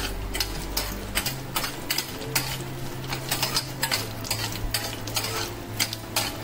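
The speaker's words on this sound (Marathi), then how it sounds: "आता आपले शेंगदाणे तळून झाले" Peanuts frying in hot oil with mustard and cumin seeds for a leftover roti snack, a soft sizzle under repeated scraping and clinking stirs in a pan, with a steady low hum behind.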